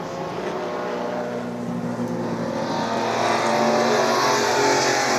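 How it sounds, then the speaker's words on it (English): A vintage BRM racing car with an air scoop over the nose roars past at the Goodwood Revival's 1957 British Grand Prix celebration, a loud, steady engine drone that swells slightly as it nears. "There's the BRM with that air scoop over the nose."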